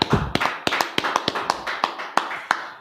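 A few people clap in loose, uneven rhythm, about a dozen sharp claps over a few seconds at a Bible quiz show gathering. The claps are near and fairly loud, with no talking over them.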